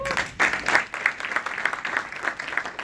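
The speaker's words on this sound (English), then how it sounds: "Can everyone give these guys another round of applause?" Audience applauding at an ACN company event, a steady wash of many hands clapping throughout, fairly loud and close, with no talk over it.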